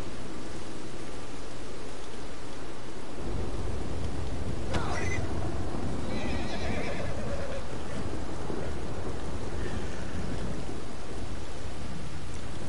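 A horse whinnies loudly in Red Dead Redemption 2 over steady rain-like noise and a low rumble, followed by fainter snorts and whinnying.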